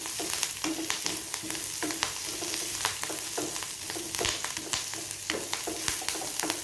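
Chopped onions and curry leaves sizzle and fry in hot oil in a pan, a continuous bright crackle with occasional stirring scrapes, close and steady throughout.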